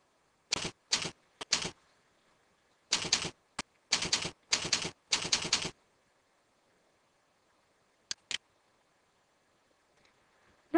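Computer keyboard typing a file name into a circuit simulation program's save dialog, several quick clusters of clicky keystrokes, close and clean against near silence, followed by a couple of isolated taps.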